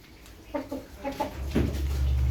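Farmyard hens calling after laying eggs give a few close clucks and cackles in quick succession, while a low rumble of wind or handling rises toward the end.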